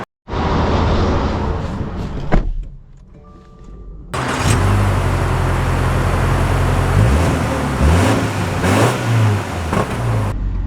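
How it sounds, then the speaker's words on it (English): A 2025 Subaru Legacy Premium with all-wheel drive pulls away and drives on, its engine note rising loud and steady over road and tyre noise, with a brief lull before the car gets going again. "So, setting off in the Legacy."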